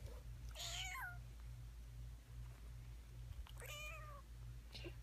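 A kitten meows in a small room where young cats are kept apart, two drawn-out wavering cries and a shorter third call over a steady low electrical hum, with no talking.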